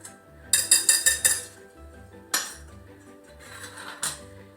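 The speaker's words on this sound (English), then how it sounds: "I'm gonna whisk those dry ingredients together to get them all combined" Dry ingredients for roly poly dough whisked in a bowl, a quick run of bright metallic clinks as the whisk strikes the sides, followed by a couple of isolated louder knocks.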